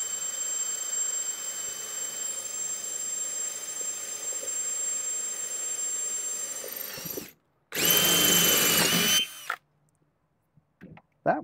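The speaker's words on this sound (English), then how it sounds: "A drill press and a vise would be handy." A close, steady high-pitched whine from a drill press running for several seconds. It stops, starts again in a brief louder burst, then the room goes nearly silent.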